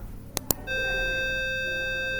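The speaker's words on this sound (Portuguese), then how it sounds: "Então ele vai fazer esse bip aqui, ó." After two short clicks, a steady electronic beep from a micro:bit simulator sounds and holds at an even level until the end.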